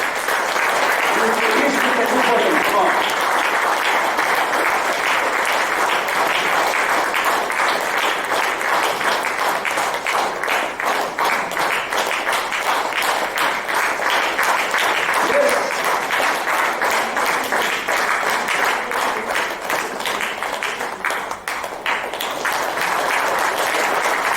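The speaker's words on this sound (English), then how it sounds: "Ladies and gentlemen, let's welcome them with a round of applause." Sustained audience applause at a military golden jubilee ceremony honouring the 1971 war victory: a dense, even wash of clapping from a large hall that carries on unbroken for well over twenty seconds as guests take the dais.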